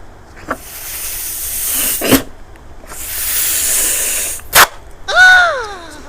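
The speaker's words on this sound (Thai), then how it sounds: "เราก็จะเป่าลูกโป่งนะครับ ให้มันขยายตัว" Someone blows up a balloon in several forceful, breathy puffs separated by short pauses, close and loud, ending with a squeaky rubbery sound as air escapes or the balloon is handled.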